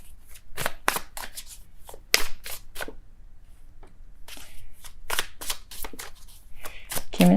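Tarot cards are shuffled by hand in quick, crisp bursts of riffling and slapping, with brief pauses between runs, while someone talks between them.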